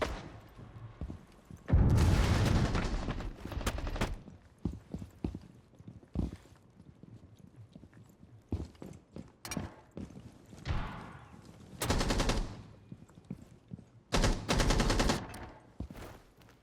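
Gunfire in a console shooter game, several sharp bursts of rapid shots in separate clusters with quieter stretches of footsteps and game noise between them, fairly close and loud.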